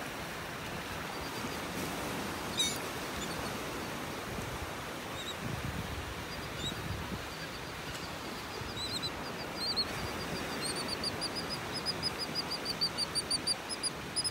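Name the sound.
birds calling at the beach in North Naples, Florida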